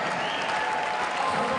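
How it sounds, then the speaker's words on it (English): A men's college basketball arena crowd applauds during a senior-night introduction, a continuous, even roar of clapping from many people filling the space. "How about that round of applause for Funderburk?"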